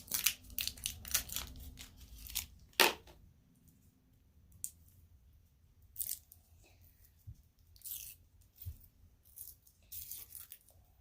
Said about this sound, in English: now then take your Starburst and unwrap it